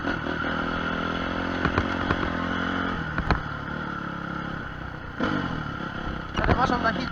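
A motorcycle downshifting while riding: the engine drone drops through gears, with sharp revving blips and clattering bursts over steady wind and road noise, close and fairly loud.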